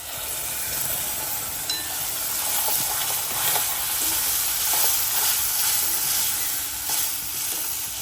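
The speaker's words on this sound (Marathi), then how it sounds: "आता ही आपण ग्रेव्ही टाकून घेऊया." Onions fry in a pan as gravy is poured in, giving a loud, continuous sizzle and hiss with faint stirring scrapes, close up and without talk, for an aloo matar paneer curry.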